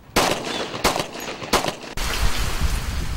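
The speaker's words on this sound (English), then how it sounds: "ShotSpotter picked up not one, not two, but 3 gunshots outside of this abandoned home." Three loud, close gunshots outside an abandoned home at night, spaced about a second apart, followed by a steady wash of rain-like noise.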